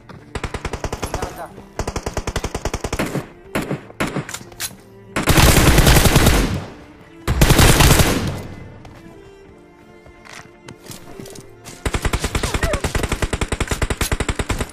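Rapid automatic gunfire from a mobile battle royale game set in a military base, loud bursts of dense shots separated by heavier explosive-sounding blasts, with brief quieter gaps before the firing resumes.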